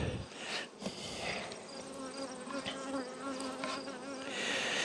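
Honeybees buzz around an open nuc hive, a close, continuous hum with individual bees droning past the microphone and swelling louder at moments.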